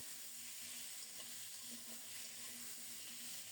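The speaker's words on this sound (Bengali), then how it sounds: "এরপরে ওই তেলে আলুগুলো ভেজে নিচ্ছি" Potatoes fry in hot oil left over from frying rohu fish pieces, giving a steady, even sizzle that carries on without a break, with faint background hum and no talking.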